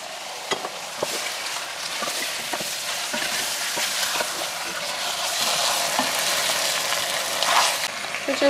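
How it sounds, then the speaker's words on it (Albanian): Meat and onions fry together in a pan, a continuous close sizzle with scattered stirring scrapes and clicks throughout. "Edhe skuqim pakës me qep bashkë."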